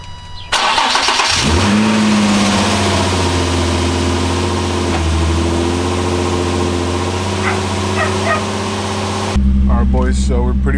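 Project Touge MonZter car engine catches on its first startup after a carbon fiber intake install, settling into a loud, steady idle with a rising rev before a brief change near the end.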